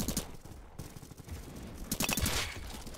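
Rapid gunfire from a weapon in the Roblox shooter Bad Business, bursts of close shots crackling over game noise, densest near the end.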